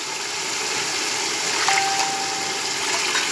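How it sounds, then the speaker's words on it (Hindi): Water gushes steadily into a cooking pot for a mixed vegetable rice pulao, a continuous loud rushing pour from start to finish. "अब इसके अंदर हम पानी ऐड करेंगे।"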